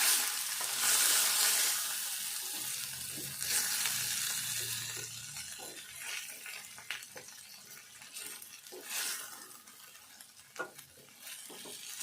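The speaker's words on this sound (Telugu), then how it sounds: "ఇదంతా ఒకసారి కలుపుకొని" Taro root (chamagadda) curry is stirred in a pan, with a spoon scraping and swishing through the thick mixture over a low sizzle. The scrapes come in uneven strokes, close and fairly loud, with no talking.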